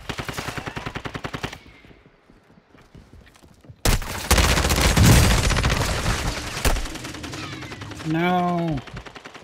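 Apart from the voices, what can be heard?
gunfire in the video game Call of Duty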